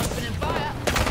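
Gunfire in Apex Legends, quick bursts of automatic shots close by with short gaps, mixed with game sounds.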